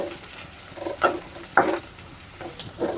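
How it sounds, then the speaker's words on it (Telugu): Onion pieces frying in hot oil, a steady close sizzle with a few louder bursts as they are stirred, no voices. "ఉల్లిపాయ ముక్కలు అయితే వేసేసుకుంటున్నా. నూనె అయితే వేడైపోయింది."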